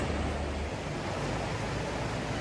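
Steady, broadband rushing of a mountain river in Old Manali, continuous and fairly loud with wind-like hiss and no distinct events.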